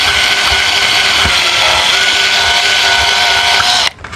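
A power drill bores a small hole in the thin wall of a 20-year-old camper, a steady loud whirring grind lasting about four seconds before stopping abruptly.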